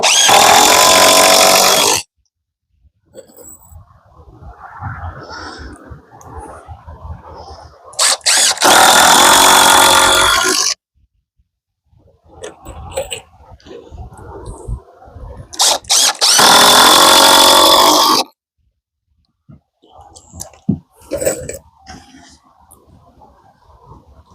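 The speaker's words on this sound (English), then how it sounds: "We're going to have 2 screws screwing into the studs at the end." A power drill drives screws into the wooden studs of a framed 8x8 side wall for an off-grid tiny house, sounding in three loud, sustained bursts of about two seconds each, separated by quieter handling noise and clatter.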